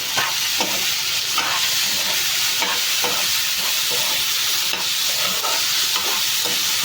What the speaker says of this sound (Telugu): తోటకూర ముక్కలు వేసేద్దాం.